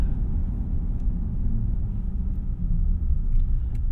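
A 2024 Ram 2500 Rebel pickup with a 6.4L HEMI V8 slows to a full stop, heard from inside the cab. A deep, steady engine and road rumble fills the cabin without any voices.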